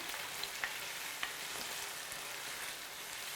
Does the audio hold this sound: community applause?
no